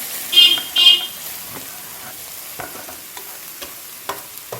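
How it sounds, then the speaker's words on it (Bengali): Pumpkin pieces frying in mustard oil in a wok give a soft, steady sizzle, with a few light scrapes and clicks of stirring and two short, brighter bursts near the start. "কুমড়োটা দিয়ে খুব ভালো করে ভাজা ভাজা করে নেব"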